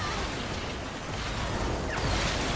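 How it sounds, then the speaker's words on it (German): A random explosion in the Watch Dogs: Legion video game, heard as a sustained, loud, broadband roar of blast and rumble that swells slightly near the end, with no talking over it. "Wow, diese random Explosion."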